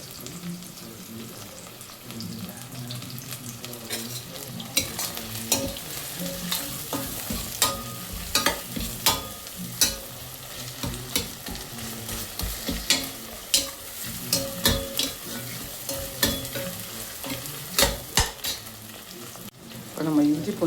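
Tomatoes sizzle and fry in a pan while being stirred for chicken biryani, a steady close crackle with repeated sharp scrapes and clicks of the spoon against the pan throughout.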